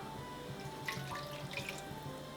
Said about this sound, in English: we're basically gonna just put 1 cup of beef broth or